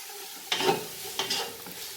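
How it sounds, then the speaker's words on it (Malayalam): Onions sautéing in a pan for a Bombay-style dum biryani, with two bursts of stirring and soft sizzle over a quiet, low hiss, each scrape-and-sizzle burst short and close. "ഈ സവാള ഇതിലേക്കിട്ട് വഴറ്റി കൊടുക്കണം"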